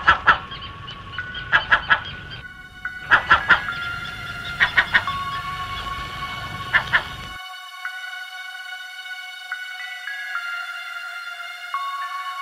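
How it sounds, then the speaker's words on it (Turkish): Crow cawing sound effect in a Turkish radio drama: a series of harsh, clustered calls repeating in bursts over the first half, then fading into a sustained steady tone with no further calls. "Güzel, gri siyah tüylü, kanatlı kardeşleriniz arasına karışan bir karga."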